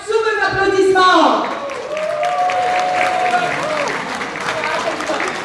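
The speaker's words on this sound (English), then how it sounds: "Super applaudissement." Enthusiastic audience applause for a bodybuilder's posing routine at a competition in Mauritius, a loud burst of clapping and cheering that peaks early and then settles into steady, sustained clapping.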